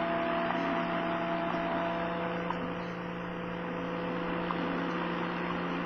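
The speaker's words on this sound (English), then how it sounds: "I got the same interference noise on the Sangean that I was getting on the Tecsun." Steady interference noise on a Sangean ATS-909x shortwave receiver, a constant hum and hiss with a droning tone running unbroken throughout, fairly loud and close, no voices.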